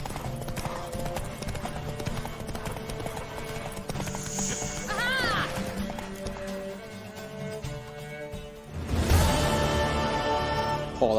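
Horse hooves pound in a fast racing gallop in The Witcher 3, with repeated clip-clop beats over game music, a horse whinnying midway, and a louder surge of hoofbeats near the end.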